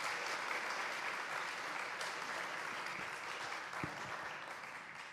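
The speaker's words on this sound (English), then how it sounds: "Please give a round of applause." An audience at a geospatial technology and development event applauds to welcome Dr. Hiba Ahmed, Director General of the Islamic Solidarity Fund, a steady wash of clapping from a fairly large room that tapers slightly toward the end.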